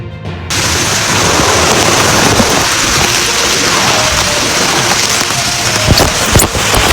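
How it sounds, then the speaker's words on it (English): Heavy rain and strong wind from Tropical Cyclone Sean lash the Karratha area of Australia, making a loud, dense, continuous roar that starts abruptly and holds steady, with a few sharp knocks near the end. "Tropical Cyclone Sean, causing strong winds, and heavy rain, causing flooding"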